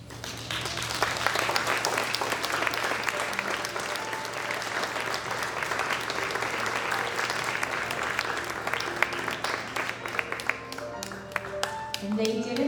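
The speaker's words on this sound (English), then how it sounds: "Let's give them another round of applause" An audience applauds Junior Miss pageant contestants on stage, sustained dense clapping from a crowd at an event, steady for most of the stretch before thinning toward the end, with a voice speaking over it.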